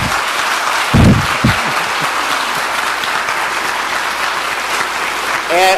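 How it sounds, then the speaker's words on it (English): An audience gives sustained applause at a presentation honouring a medical association team, a dense continuous clapping with a voice briefly heard over it. "So let's give a large round of applause to our team."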